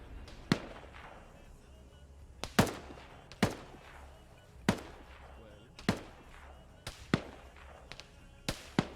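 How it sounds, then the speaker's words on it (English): Sniper rifle shots in the military video game Arma 3, sharp single cracks with short echoing tails, about eight shots spaced roughly a second apart, distinct above a low background. "You still hear that sniper firing."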